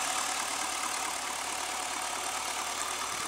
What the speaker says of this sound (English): Look at that engine, she purrs